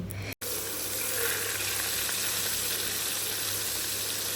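Fish frying in a pan at home, a dense, continuous hiss of hot oil that barely varies apart from one very brief dropout near the start.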